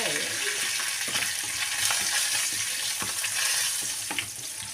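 Curry leaves and asafoetida frying in hot oil, a loud continuous crackling sizzle with the scrape of a stirring spoon throughout, no talk.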